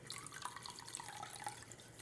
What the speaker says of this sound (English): I'll just pour that right in here